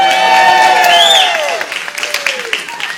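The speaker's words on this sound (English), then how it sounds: "yes, you can give them more applause for that" Wedding guests clap and cheer for a newly engaged couple, with whoops and raised voices riding over the applause, which stays loud before thinning toward the end.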